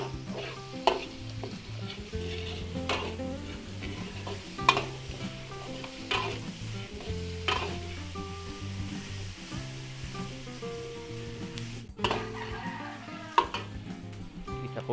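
Onions frying and sizzling in a pan for Filipino home cooking, stirred steadily with repeated scraping strokes of the utensil over a continuous close sizzle, no talking.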